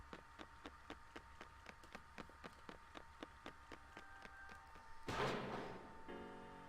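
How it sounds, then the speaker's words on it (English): A gunshot goes off in Persona 4 Arena Ultimax: a single sharp, loud blast with a short decaying tail, after a run of steady rhythmic ticks. "now that sounded like a gunshot"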